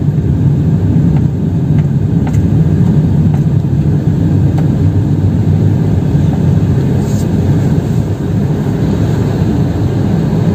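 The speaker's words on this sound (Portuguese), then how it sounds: "Aí o veículo leve sobre trilhos, aí passando aí em cima da gente aí." A light rail vehicle on an elevated monorail track passes overhead along Avenida Sapopemba in São Paulo, a loud, sustained low rumble and droning hum with faint clicks on top, constant throughout.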